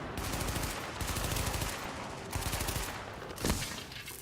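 Weapon fire in Tom Clancy's The Division on Xbox One in a subway morgue, rapid automatic bursts of gunshots in short strings with brief gaps, one sharper loud report near the end.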